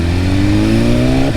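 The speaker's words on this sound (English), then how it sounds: "Oh, this bike sounds so good." Superbike engine revving in the city, a short loud rising rev with climbing pitch that cuts off sharply at the end, close up and alone.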